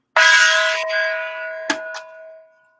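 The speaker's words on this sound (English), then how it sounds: "We shall gong you, Eves." A gong sound effect struck once, loud and ringing with a long sustained metallic tone that fades, followed by a couple of brief clanking hits near the end; no talking.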